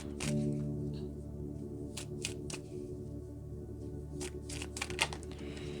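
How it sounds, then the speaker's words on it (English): Tarot cards are shuffled close by in quick, soft riffling bursts and taps, quiet against a faint steady background hum. "So let me just shuffle some cards"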